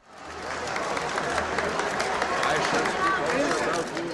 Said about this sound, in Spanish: Cuando entró, la ovación fue interminable.